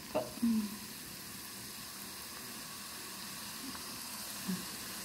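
Sesame pastry cones frying in hot oil, a steady soft sizzle with a brief louder burst near the start and another small flare toward the end.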